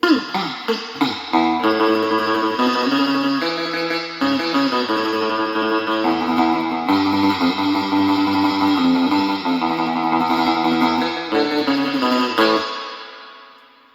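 Chugging palm-muted electric guitar chords through a distorted Cave Valley Amps PT-86 amp, tight rhythmic riffing that rings out and fades at the end.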